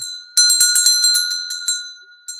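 A handheld bell rings in a quick run of about six bright, ringing strikes, then falls quiet before one last single ring; the tones are loud, close and sustained, with no talking.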